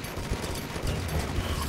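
Dense, continuous rapid gunfire aimed at a giant koala in the game DEEEER Simulator, a steady rattling barrage with no pauses.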